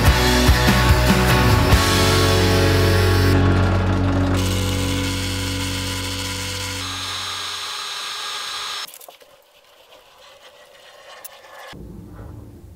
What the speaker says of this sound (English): drill a hole in it so I can connect it.